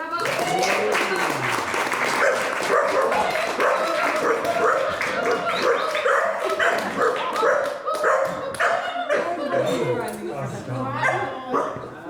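A dog barks and yips repeatedly through a live performance by a performance artist and musician, the barks loud and close over continuous singing, music and talk, with applause mixed in.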